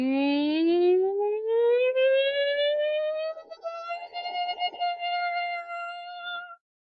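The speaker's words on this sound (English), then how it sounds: "So I start from a low tone and I go high" Single voice toning one sustained vowel, sliding smoothly from a low pitch to a high pitch, close and clear with a slight waver toward the end.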